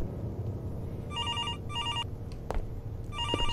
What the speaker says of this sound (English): Where's the phone? Better pick up the phone.